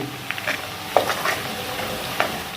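Whole cumin seeds and black peppercorns sizzle softly in hot oil, with a few light stirring scrapes and clicks from a utensil against the pan.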